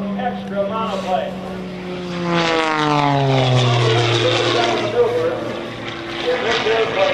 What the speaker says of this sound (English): in a 4-minute freestyle in this new type of extra monoplane